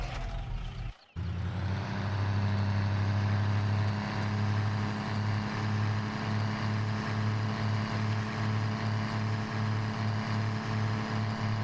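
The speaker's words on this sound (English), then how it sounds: "Kind of a new version of the GMC dump truck we're using here, by the way" A GMC dump truck engine in Farming Simulator 17 kicks in after a brief cut and settles into a loud, steady low diesel drone with a faint rhythmic pulse, running alone without talk.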